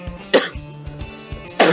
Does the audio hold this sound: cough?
yes